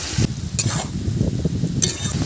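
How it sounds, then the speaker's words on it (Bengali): Potatoes frying in hot oil in a hot kadai, giving a steady close sizzle, with a few sharp clinks of a spatula against the pan. "কড়া গরম হয়ে গেছে, তেল দিয়ে দিচ্ছি। আলুগুলো এখন ভেজে নেব।"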